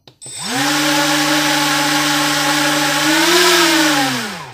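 A brushless motor under test spins up sharply in neutral mode on its ESC and holds a steady, loud, high whine. The pitch rises slightly near the end before it cuts off. It is heard alone, close up.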